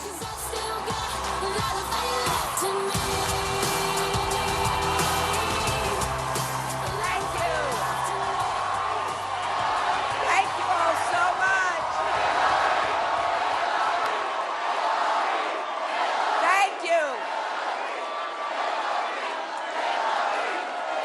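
A large crowd cheers and whoops at Hillary Clinton's Miami, Florida headquarters on Super Tuesday 2016, a dense roar of voices and shouts that holds steady throughout.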